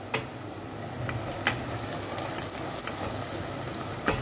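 Spices with Kashmiri red chili fry in a pan with a steady, close sizzle and scattered crackling pops. No one talks.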